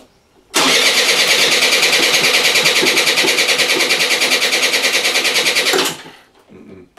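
Piaggio Gilera Runner fuel-injected scooter engine cranking with the throttle opened, a loud, steady, rapidly pulsing starter whir lasting about five seconds that never catches and then cuts off.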